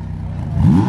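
A supercar leaving a car show in Columbus, Ohio, sits at a low, steady idle, then its engine note swells into a short rev near the end, loud and close, with no one speaking.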